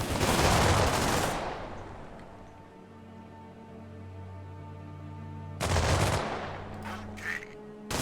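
Gunfire bursts from the video game The Last Haven, loud at the start and again near the end, with a quieter humming stretch in between; no speech is heard.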